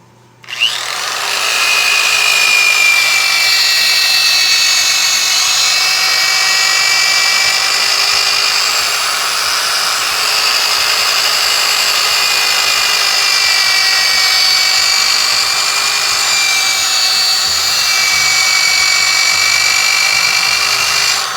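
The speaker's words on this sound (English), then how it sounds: "we're going to finish this up with the finer grit, 220 grit, and then we'll touch up the outside a little bit" A power sander fitted with 220-grit sandpaper runs continuously for about twenty seconds, a close, loud, high whirring drone with a slightly wavering pitch as it works the surface.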